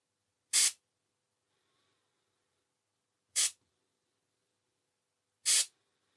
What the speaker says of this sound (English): We can simulate taking a shot by loosening this valve here.